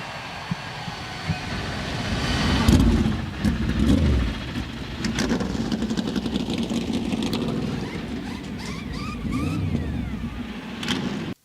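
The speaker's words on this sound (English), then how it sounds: "Drivers, start your engines!" NASCAR Cup Series stock car engines fire up and idle at a race track, a loud, dense rumble that swells and keeps going, with a rising rev near the end.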